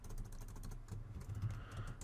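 Keys tapped on a computer keyboard while a business name is entered during Google My Business account setup, a soft cluster of clicks early on beneath steady low background hum.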